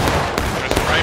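Musket volley fire in the Civil War game War of Rights, a dense crackle of overlapping gunshots with sharp reports near 0.35 and 0.7 seconds over constant battle noise, loud and close, with voices mixed in.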